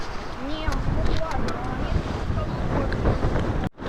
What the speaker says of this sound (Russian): ветер прям встречный